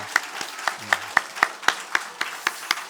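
A church congregation claps at an Easter Sunday morning service. The sharp, evenly spaced claps fall in a steady beat with quiet gaps between them.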